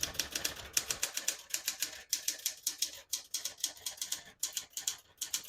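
A 1980s Smith-Corona Deville Deluxe portable typewriter clatters with rapid, close keystrokes in quick uneven bursts, with brief pauses between runs of typing.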